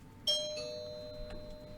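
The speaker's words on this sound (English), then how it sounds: "My doorbell rang" A doorbell chimes once indoors, a bright ringing tone with a second note that rings on and fades slowly over a quiet room hum.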